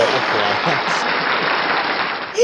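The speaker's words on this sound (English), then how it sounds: "Everybody clap. Give me the sound effects." A short burst of dense, even applause from a small group, like a quick clapping sound effect, filling the whole moment at steady volume with no pauses.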